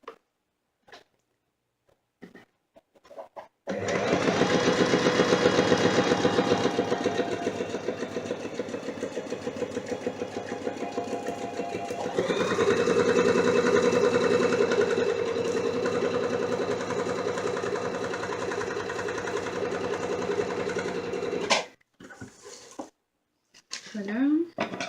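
A sewing machine runs steadily for about eighteen seconds, stitching a seam 1 cm from the edge, its fast mechanical whir changing pitch partway through before stopping, with a few short handling sounds after.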